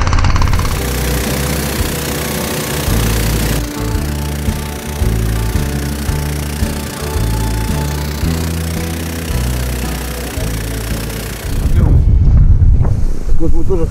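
Small outboard-style engine on a motorized snow towing unit driving over ice during winter fishing in Arkhangelsk region, running steadily and close with a rhythmic pulsing drone, then wind gusts buffeting the microphone near the end.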